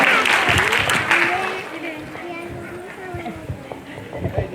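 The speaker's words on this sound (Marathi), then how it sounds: "एकदा जोरदार टाळ्या होऊ देत सगळ्या मान्यवरांसाठी" A crowd at a school's annual function claps for the dignitaries, loud applause at first that thins into scattered claps, with voices talking over it.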